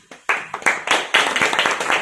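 A crowd claps together, a dense burst of applause that starts abruptly and keeps going steadily, fairly loud and close.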